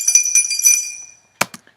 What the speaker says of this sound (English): I added the sound of coins rattling about in the glass as well as the keys